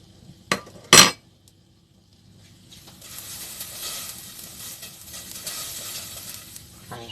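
Meat cooks in a pot for pepper soup, drying out with a faint, steady sizzle after two sharp metallic clinks near the start, quiet and close.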